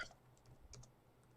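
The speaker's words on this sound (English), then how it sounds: "I was typing something right now" Soft, faint clicks of typing on a computer keyboard come in a few scattered keystrokes, quiet and close in an otherwise still room.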